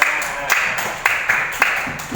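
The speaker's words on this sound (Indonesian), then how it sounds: "Oke, tepuk tangan." Students clap their hands in a classroom after a Quran recitation practice, giving a few sparse, uneven claps spaced about half a second apart with nothing else behind them.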